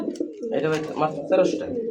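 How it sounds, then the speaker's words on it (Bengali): High flyer pigeons of two different colours at a pigeon market, giving soft, low cooing close by, with voices talking nearby. "দুইটা দুই কালার হাই ফ্লার কবুতর"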